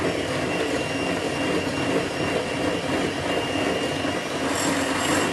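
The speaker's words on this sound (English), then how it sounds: "mix this for a minute with my hand mixer. It's gonna be a little noisy." Electric hand mixer whirring steadily through protein pumpkin pudding, a loud, continuous rough buzz with a slight scraping grind as the beaters work the mixture, alone without talk.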